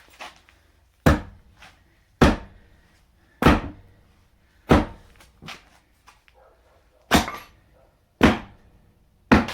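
Heavy hammer blows from a big hammer on a shed land one after another at a steady pace, each a sharp, loud impact with a brief ring, close by and without talking.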